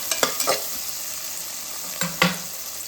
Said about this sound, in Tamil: இஞ்சி பச்சை மிளகாய் கொத்தமல்லியை நம்ம கடைசியாக போட்டுக்கலாம் நல்லா வதக்கலாம்